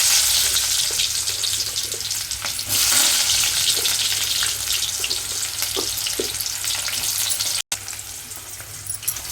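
Fenugreek seeds and onion frying in a hot pan for a fish curry, a steady close bright sizzle with soft scraping stir strokes throughout, briefly cut by a short gap near the end.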